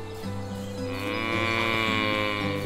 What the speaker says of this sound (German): Nein, eine sitzende Kuh.